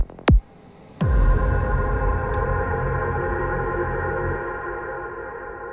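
Homemade impact effect for a hi-tech psytrance transition: a short sharp hit, then a heavier booming impact that rings into a long reverberant tail slowly decaying, loud and alone.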